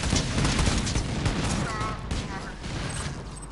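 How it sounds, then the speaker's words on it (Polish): Rapid rifle fire in Borderlands 2, a dense continuous burst of close, loud shots filling a few seconds with explosive crackle throughout. "O Jezu, jak sieje ten karabin, o Boże."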